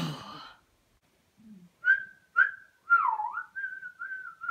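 A boy whistles in a shared bedroom, a few short rising notes and then a longer wavering tune, clear and close after a brief bit of talk at the start.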